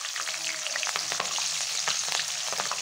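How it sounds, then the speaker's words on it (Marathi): Pieces of green chili fry in hot oil in a kadhai alongside chivda preparation, a steady crackling sizzle with scattered sharp pops and occasional scraping stirs, close and continuous throughout. "आता थोडीशी हिरवी मिरची तळून घ्यायची."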